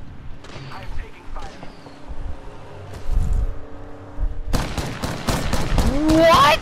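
Gunfire in Apex Legends erupts in a dense burst of rapid shots during the last two seconds, following quieter game ambience and a voice.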